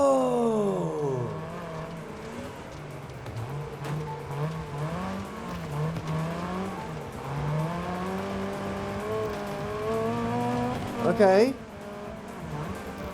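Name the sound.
race car downshifting into turns in Wreckfest 2 video game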